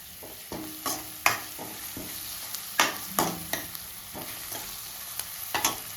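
Onion pieces fry in a pan with a soft steady sizzle, broken by a series of sharp scraping stirs and clacks of a spatula at irregular intervals; no voices.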